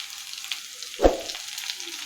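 Curry leaves and green chillies sizzle in hot oil in a pan while making poha, with a brief loud burst of spitting as they hit the oil, then settling into a soft, steady fry.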